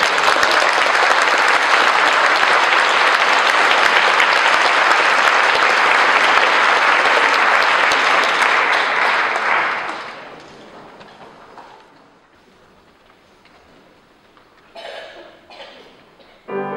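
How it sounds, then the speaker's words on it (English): Audience applause at a 2017 London singers' gathering, a loud sustained burst of clapping from a crowd lasting about ten seconds before fading to quiet, with a few faint noises afterward. "Give him a round of applause"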